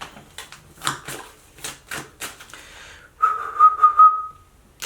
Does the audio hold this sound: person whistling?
yes